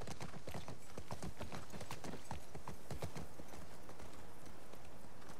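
Horse hooves clip-clopping in The Last of Us Part 2 on PS5, a quick, steady rhythm of close, crisp hoof strikes at a trot or canter, heard alone.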